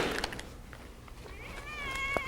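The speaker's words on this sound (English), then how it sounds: "Right then, here's your cat back." A cat meows with a clear, wavering cry near the end, after softer background noises and a few faint sounds in a quiet indoor setting.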